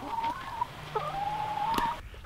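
Chickens cluck steadily, with a few ducks also kept inside a winter greenhouse, the hens' calls carrying close and clear over a low background hum, no one speaking.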